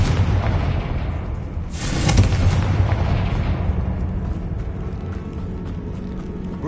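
A Confringo fire spell exploding in a Hogwarts video game, one heavy booming blast with a sharp crack that rumbles and slowly fades over a steady loud background, with no voices.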